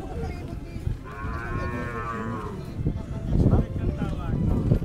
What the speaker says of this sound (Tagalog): Babaeng kalabaw.